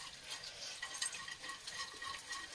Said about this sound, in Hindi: इसे भी घी में अच्छे से हम भून लेंगे ताकि अच्छे से फूल जाए।